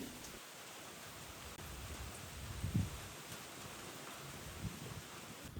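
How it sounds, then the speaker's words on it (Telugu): Rain falls hard with strong wind across a farm, a soft, steady wash of noise heard from a distance, with a faint low thump partway through and no talking. "విపరీతమైన గాలి వర్షం గంటన్నర పాటు కంటిన్యూస్గా కురిసింది"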